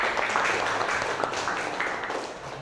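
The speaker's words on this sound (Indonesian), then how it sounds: "Tepuk tangan untuk kalian semua." Vocational high school students applaud in a classroom, a brief burst of scattered clapping that stays fairly steady and gradually fades over a few seconds.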